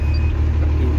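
Steady low rumble of a Mercedes-Benz 1620 truck's diesel engine idling just after starting, close and continuous with no talk over it.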